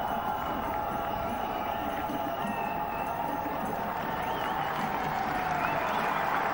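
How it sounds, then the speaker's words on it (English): Cricket crowd at Dambulla during a 2005 India vs Sri Lanka one-day match, a steady, fairly distant wash of applause and crowd noise that holds throughout under faint voices. "Getting an applause for the effort, the fielder there in the deep."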